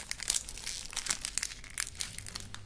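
Plastic packaging from a bag of marshmallows crinkled and crushed close up in an ASMR setting, a run of crisp, crackling bursts with brief pauses, soft and intimate without talk.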